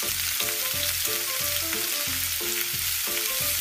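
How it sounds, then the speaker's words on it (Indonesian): Potatoes frying in hot oil, a dense steady sizzle with a rhythmic low repeating rumble underneath, close and continuous with no voices. "goreng kentang tersebut ke dalam minyak panas"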